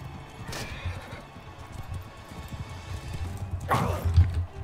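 Hooves clop and thud in a loose rhythm, with two brief rushing bursts and a horse whinnying near the end, all fairly faint, in the video game Mount & Blade II: Bannerlord.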